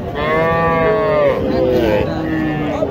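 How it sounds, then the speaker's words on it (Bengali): A crossbreed bull at the Mataji cattle market in Naogaon lets out one long, loud, close moo that slides downward, with a second lower call trailing after it amid a faint crowd murmur. "ক্রস একটা ষাঁড় গরু"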